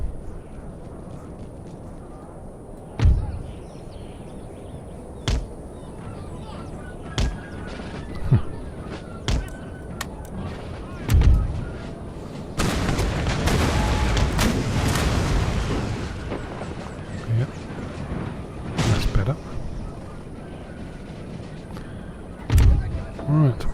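Musket volleys in the Empire: Total War game during a 1721 summer battle, with sharp reports spaced every few seconds and a dense, rolling burst of massed fire in the middle, heard alone.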